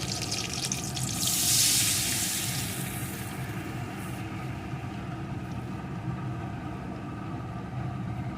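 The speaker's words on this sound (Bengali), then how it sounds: "সেই পেস্টির ভিতরে আমি একটু জলও মিশিয়ে নিয়েছি যে পরিমাণ গ্রেভি রাখবো সেই পরিমাণ জল মিশিয়ে নিয়েছি সেই জলটা দিয়ে দেবো" Water mixed with mustard and green chilli paste is poured into a pan of Bhola fish curry, making a steady, close, rushing pour with a brief louder splash near the start and no talk.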